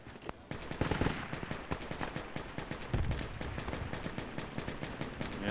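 Rapid automatic gunfire from the Project Reality military shooter game, dense overlapping bursts and single shots crackling continuously, some near and loud, others more distant, with no talk over them.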